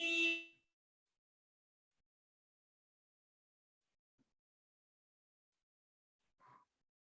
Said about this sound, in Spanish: esperemos un momentito a ver si esa alarma se...